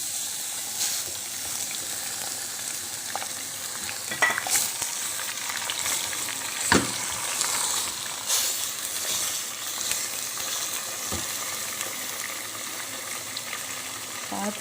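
Minced meat keema frying in a pan with karela (bitter gourd), a steady close sizzle with occasional scraping stirs and a few sharper clicks throughout.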